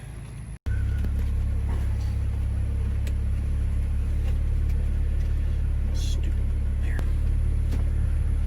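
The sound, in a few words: Jeep Gladiator with Sunrider hardtop driving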